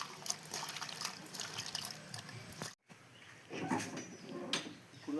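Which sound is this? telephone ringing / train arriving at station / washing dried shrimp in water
washing dried shrimp in water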